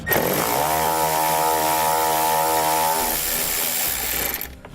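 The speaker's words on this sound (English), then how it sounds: "We'll grab an 8mm socket, we're going to pull those out." A power tool with an 8mm socket whirs steadily as it removes bolts from a 2018 Jeep during base plate installation, loud and close, then stops abruptly near the end.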